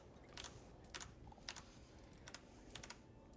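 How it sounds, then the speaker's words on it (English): Light, uneven tapping on a computer keyboard during a gaming session, a handful of soft quick keystrokes in small bursts over a low steady background hum. "me tapping the keyboard isn't too annoying"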